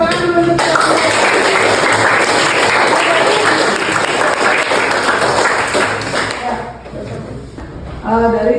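An audience in a Tri Hita Karana classroom presentation breaks into loud, sustained applause close by, a dense clatter of many hands that tapers off near the end as a voice begins speaking again.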